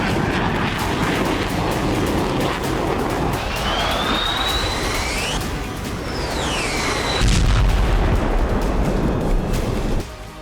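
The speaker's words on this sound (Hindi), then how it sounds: "यूक्रेन के आसमान पर गरजेंगे अमेरिका के सिंगल जेट इंजन वाले F-16 फाइटर जेट।" Single-engine F-16 fighter jet roaring loudly and continuously, a broad rushing engine noise with a rising and falling whine as it passes, ending in a deep rumbling surge.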